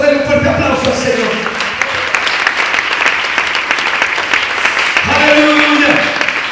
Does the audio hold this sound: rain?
no